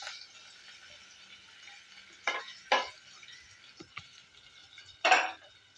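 Onion, cinnamon, clove, cardamom and a leaf sauté in oil for mint rice, giving a steady soft sizzle with a few sharp spoon scrapes and clinks against the pan near the middle and end.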